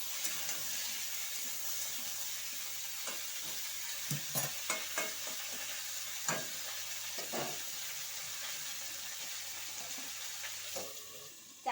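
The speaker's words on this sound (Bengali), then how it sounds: "চাপা দিয়ে আস্তে আস্তে লাল লাল করে ভেজে নেব" Water lily fritters frying in oil, a continuous faint crackling sizzle with scattered ticks and soft stirring scrapes, close and steady, no talk.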